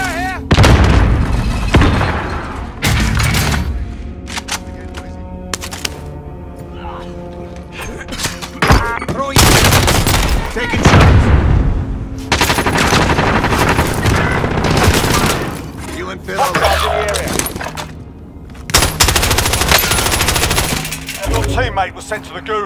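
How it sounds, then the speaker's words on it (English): Frag grenade blast and heavy gunfire in an online battle-royale shooter, with loud repeated bursts, booms and crackling shots filling the whole stretch, mixed with game music and voices. "frag grenade!"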